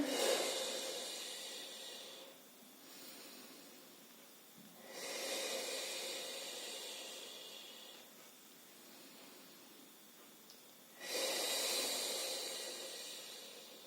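Deep breathing during self lymphatic drainage: three long, close, airy inhalations through the nose, each swelling then fading, separated by quieter exhales.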